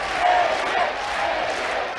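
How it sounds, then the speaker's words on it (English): Crowd noise at a men's college wrestling dual between Ohio State and Nebraska, with a steady roar of many voices chanting together during a tense match, continuous and fairly loud throughout. "Crowd chanting AJ."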